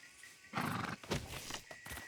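A horse in the video game Red Dead Redemption 2 lets out a short snorting whinny with light hoof sounds, quiet and brief, and no one talks over it.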